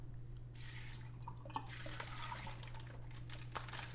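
Whey from homemade ricotta poured slowly through cheesecloth, heard as soft splashing and trickling with scattered drips, quiet and close, no talking.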